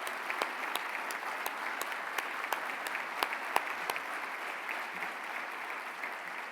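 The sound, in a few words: audience applause at conference closing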